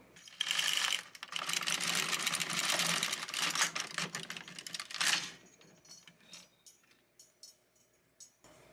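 A carriage glides across an LK150 knitting machine to knit one row, a continuous mechanical rattle and clatter lasting about five seconds, then scattered quiet clicks and taps.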